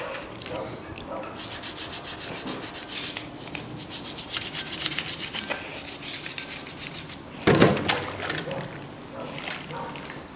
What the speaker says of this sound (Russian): Вот таким образом промываем все тщательно.